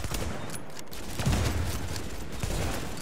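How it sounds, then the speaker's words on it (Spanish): Flashbang grenade going off in The Division shooter game: a short, dull burst of noise amid a dense, crackling stream of gunfire-like game sound, with no clear voices. "Va granada cegadora."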